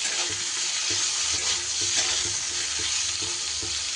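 Onion and small tomato slices frying in a pan with bitter gourd, a steady dense sizzle with soft stirring scrapes recurring throughout, close and fairly loud with no voices.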